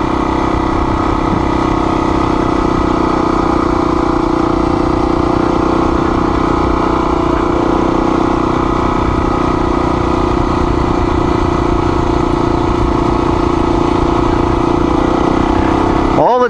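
A Honda XR400R motorcycle on a dirt trail rides steadily throughout, its engine note droning continuously at close range with small shifts in pitch and no talking.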